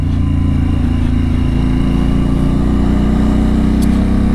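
Harley-Davidson Pan America motorcycle on a high mountain byway, its engine running steadily with a continuous low throb and a constant loud drone throughout, with no pauses.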